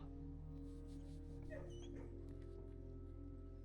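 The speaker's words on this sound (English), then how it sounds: "A kennel is always good. I probably will go pet the dogs." Dogs in a kennel in the video game Blue Prince give faint whimpers and small yips over a steady low background hum, with brief high cries clustered in the middle.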